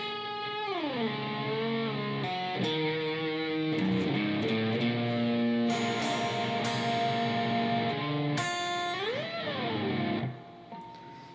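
Electric guitar plays a slow phrase from a solo with slightly overdriven tone, bending and sliding notes, and sustained chords rising and falling before ringing out at the end, close up with no talk.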